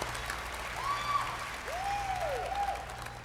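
A large audience at the Bethesda E3 2019 showcase breaks into sustained, loud applause, with dense clapping and a few rising whistles carrying across the hall.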